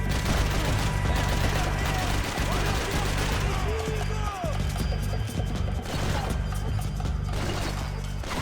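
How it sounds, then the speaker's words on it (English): Gunfire in the video game Max Payne 3, dense overlapping shots and impacts forming a continuous loud barrage with scattered crashes throughout, no speech. "Who is shooting at me, and from where?"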